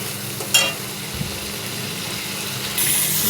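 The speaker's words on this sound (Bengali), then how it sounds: "আবার একটু কষিয়ে নেব।" Spices and salt sautéing in a pan for a rita fish curry, a steady soft sizzle with a sharp utensil scrape near the start and a brighter hiss rising at the end, no voices.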